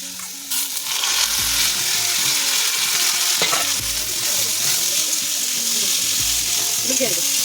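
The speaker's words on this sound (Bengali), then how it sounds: "ভালো করে ভেজে নিতে হবে" Chopped jackfruit seeds fry in a pan with a continuous close sizzle, broken by occasional low scraping stirs, steady and fairly loud throughout without speech.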